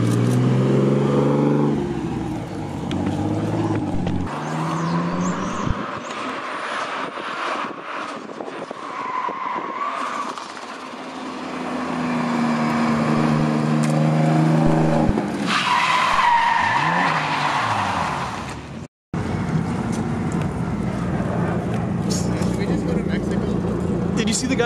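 A car on janky skinny wheels drifts, with rising engine revs and screeching tire squeal in loud sweeping bursts that come and go over about twenty-five seconds, plus a short dropout near the end and people talking in between.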